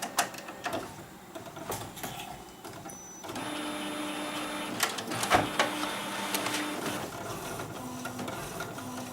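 An old printer whirs and clicks as it pulls paper from the tray and prints a test page, with mechanical hums and steady motor tones at close range.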